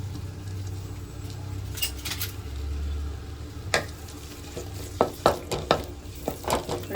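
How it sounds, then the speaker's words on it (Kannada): Chopped onion frying in hot oil in a pan, a low steady sizzle under a background hum, with a few scraping stirs and clatters near the end. "ಇವಾಗ ಎಣ್ಣೆ ಕಾದಿದ ತಕ್ಷಣ ನಾವು ನೋಡಿ, ಒಂದು ಈರುಳ್ಳಿ ಸಣ್ಣ ಕುದ್ದು ಕಚ್ಕೊಂಡಿದ್ದೀನಿ. ಇದನ್ನ ಚೆನ್ನಾಗಿ ಫ್ರೈ ಮಾಡ್ಕೋಬೇಕು."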